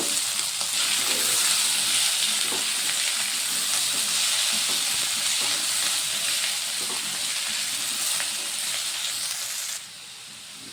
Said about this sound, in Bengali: এবারে আলু দিয়ে দেব হাফ চামচ নুন, হাফ চামচ হলুদ গুঁড়ো দিয়ে ভালো করে ভেজে নেব।